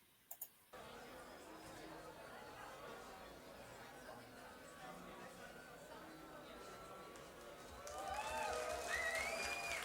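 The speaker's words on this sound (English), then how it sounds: "90 seconds of crowd." Crowd noise before a metal band's live album track, a steady murmur of chatter and scattered clicks that swells louder near the end, with faint tonal sounds rising through it.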